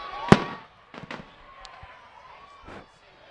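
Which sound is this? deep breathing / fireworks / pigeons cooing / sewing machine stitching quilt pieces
fireworks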